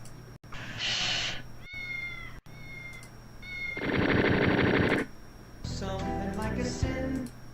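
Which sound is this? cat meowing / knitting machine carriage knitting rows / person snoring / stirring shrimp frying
cat meowing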